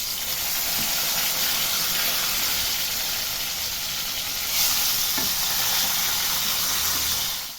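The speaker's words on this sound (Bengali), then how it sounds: "আমি ভেন্ডিগুলোকে ভেজে নেব।" Okra fries in hot oil with a steady, loud, dense sizzle and crackle that carries on without a break, close up and with no talking.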